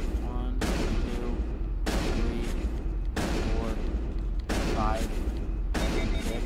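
A weapon in Mass Effect fires repeated heavy shots, about six evenly spaced loud blasts in a steady rhythm, each one ringing out briefly.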